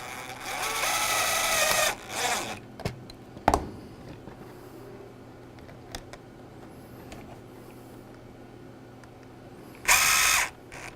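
Power tool driving screws to fasten a welding helmet shade, two short bursts of whirring at the start and another near the end, with clicks and handling noises in the quiet gaps between.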